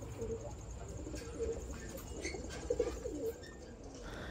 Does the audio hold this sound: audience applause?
no